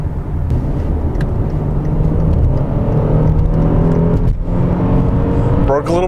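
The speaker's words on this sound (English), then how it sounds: "Broke a little bit of traction and we're doing 65." A 2013 Hyundai Genesis sedan accelerates hard at around 65 mph and briefly breaks traction, with a loud continuous engine rumble and road whir heard from inside the cabin.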